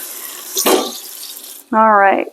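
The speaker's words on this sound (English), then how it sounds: "rinse off my lentils with hot water" Tap water running over cooked lentils in a sink as they are rinsed, a brief hissing splash that cuts off, followed by a short spoken remark.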